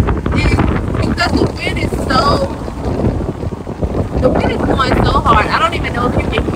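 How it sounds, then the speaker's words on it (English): Strong wind buffets the microphone outdoors in loud, continuous low rumbling gusts, with a person talking through the roar. "the wind is going so hard, I don't even know if you can hear me out here."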